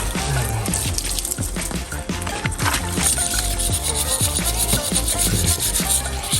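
A stiff brush scrubs a foamy car engine bay coated in homemade engine degreaser, loud and close with steady rasping strokes running throughout.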